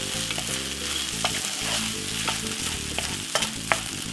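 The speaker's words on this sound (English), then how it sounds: "simple stir fry up some rice like this" Egg and mushroom fried rice is stir-fried in a hot pan, giving a loud, busy sizzle with scattered sharp clicks and scrapes of the utensil and a low steady hum beneath, with no talking.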